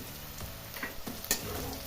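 Onions fry in a pan with salt and a little sugar for a chicken curry, giving a quiet continuous sizzle with a few light clicks from stirring.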